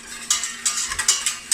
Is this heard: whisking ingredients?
yes